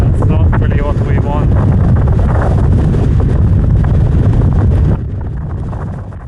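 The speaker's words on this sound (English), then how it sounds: "it's warm and windy" Strong, warm wind buffets the microphone outdoors on melting ice, a loud, steady roar that drops off sharply near the end, with a voice speaking beneath it early on.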